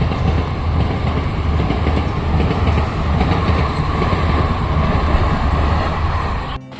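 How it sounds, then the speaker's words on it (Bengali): A train rolls past a lowered level-crossing gate on a single-track line, a loud, steady rumble of wagons with clattering wheels filling the whole stretch before cutting off abruptly at the end, with no talk. "আর দেখো ট্রেনও যাচ্ছে"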